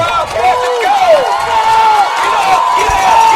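A hometown crowd at a high school football homecoming game cheering loudly, with whoops and rising shouts from a packed stadium and voices throughout.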